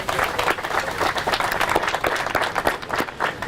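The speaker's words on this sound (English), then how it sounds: "let's give Pat a round of applause" An outdoor audience at a civic plaza fountain ribbon-cutting ceremony claps for Pat Montoya, a dense, steady round of applause lasting a few seconds at moderate distance.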